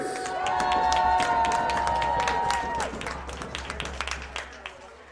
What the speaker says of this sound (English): please give a round of applause for the Lady Bearcat dancers